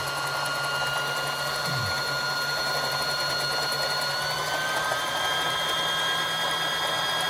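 A Singer Classic sewing machine winds thread onto its bobbin with a steady, continuous mechanical whir and hum that holds at an even, moderately loud level throughout.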